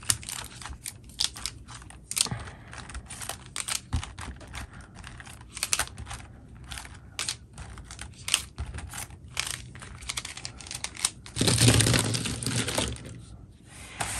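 Sharpie and Art 101 marker pens are pulled from a set of Ohuhu markers, producing a steady stream of close plastic clicks and rattles with a louder jumble of clattering near the end.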